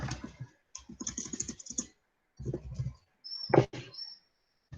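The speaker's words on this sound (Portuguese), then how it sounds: "é horrível ficar digitando no Word" Typing on a computer keyboard while writing in Word: rapid clusters of close key clicks separated by brief silences, with one sharper clack near the end, no voices.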